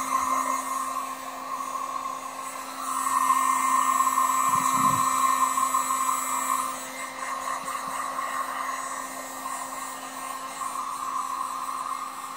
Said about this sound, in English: being that we're in a hurry, I use my heat gun.